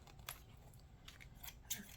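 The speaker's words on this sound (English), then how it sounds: "It's because these scissors are so spanking new." A pair of brand-new scissors snips paper strips, with several quick, crisp cuts spaced irregularly and heard close and fairly quietly.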